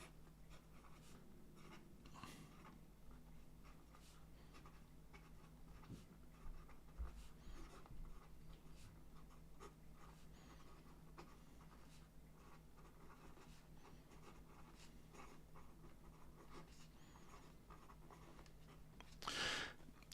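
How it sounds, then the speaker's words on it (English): An Artcraft Spiral fountain pen nib with slight feedback moves across paper in a quiet room, a faint, steady scratch of strokes and pauses close to the mic, with a brief louder rustle near the end. "And here we go with the rest of the writing sample."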